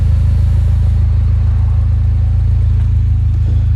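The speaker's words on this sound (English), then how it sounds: "The sports exhaust there." A 2011 Mini John Cooper Works sports exhaust idling, a loud, steady low rumble with a deep pulsing throb, close and unchanging.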